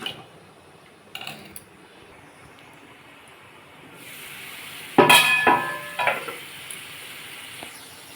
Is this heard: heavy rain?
no